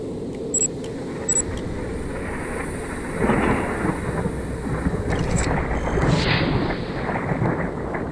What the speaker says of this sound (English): So, radiation storm, you just have to wait for the cloud to turn back to normal and then you can go.